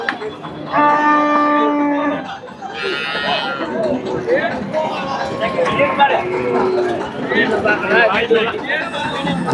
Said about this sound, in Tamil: ஒரு எருமக்கன்று இருக்கு